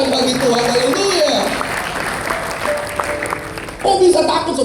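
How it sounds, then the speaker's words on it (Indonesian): A church congregation claps in a sustained, moderately loud burst of applause, with voices and crowd noise mixed in over the top and a swell near the end. "Kita berikan tepuk tangan bagi Tuhan."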